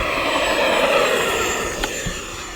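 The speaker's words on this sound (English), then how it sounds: "let's see if we can just take off quickly and get that landing gear up" An FMS F-16C radio-controlled jet with a 70mm electric ducted fan takes off, giving a loud, steady high-pitched whine and rush close by that eases slightly toward the end.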